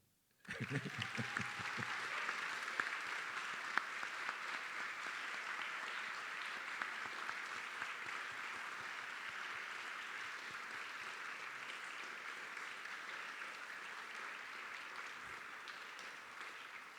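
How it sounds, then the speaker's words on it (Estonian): Sustained applause from an audience at a 2020 school graduation ceremony honoring parents and school staff, starting abruptly and continuing evenly for over fifteen seconds at moderate distance. "Kui nüüd oleks kohane üks aplaus vanematele ja kõigile koolitöötajatele, siis oleks küll hea."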